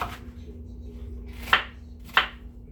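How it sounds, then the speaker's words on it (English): A kitchen knife cuts salmon slices into smaller pieces on a board for a teriyaki dinner: two crisp, close chops about half a second apart over a quiet, faintly humming room. "cut your slices in smaller pieces"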